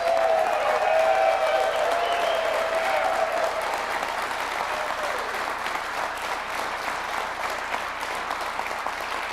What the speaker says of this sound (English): the loudest round of applause for the Bernie's Book Bank team